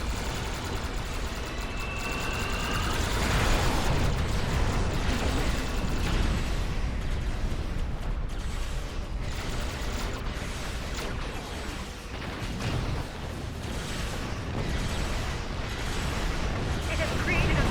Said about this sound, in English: Fire the weapon!